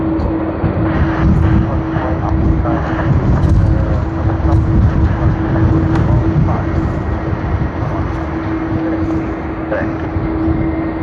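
A Garuda Indonesia airliner in Red Bull livery at Sydney Airport gives off a steady, loud jet engine roar with a constant whine, continuous throughout and without speech.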